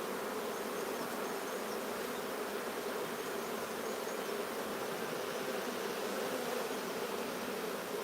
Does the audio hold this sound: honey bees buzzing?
yes